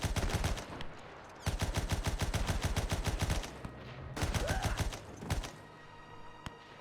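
Rapid volleys of rifle and machine-gun fire crackle in a World War One trench battle in the video game Between Empires. Dense, loud bursts come in several rhythmic runs, broken by short lulls and a few lone shots, with no voices.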